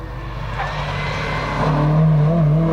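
A race car climbs the course at the Legend of the Lakes hillclimb, its engine revving and building in loudness as it approaches, with a rising drone over a continuous roar.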